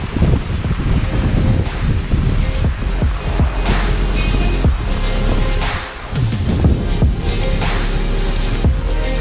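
Strong wind at sea roars continuously, buffeting the microphone with heavy rumbling gusts and constant rushing noise, with no voices heard.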